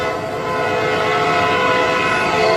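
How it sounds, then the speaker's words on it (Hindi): A train approaching on railway tracks as a story sound effect: a loud, steady rumble of rolling wagons with sustained horn-like tones that swell slightly toward the end. No one speaks. "ट्रेन की आवाज भी अब तेज हो"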